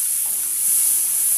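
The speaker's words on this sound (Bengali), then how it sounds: "এইবার আমি আদা পেঁয়াজ রসুনটা একটু কষিয়ে নেবো বন্ধুরা" Ginger, onion and garlic sautéing in a pan, giving a steady close sizzle with a soft hissing wash throughout and no talk.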